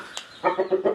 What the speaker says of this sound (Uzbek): Juda katta xo'roz aka-ukalar, davrada o'ynaydigan xo'roz